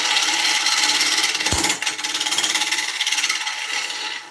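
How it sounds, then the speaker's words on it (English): A woodturning tool cuts a decorative oak bowl spinning on a lathe at about 600 rpm, a loud close rasping scrape with a steady pulsing rhythm and one brief knock midway. "I'm letting the lathe spin it and let the tools cut it"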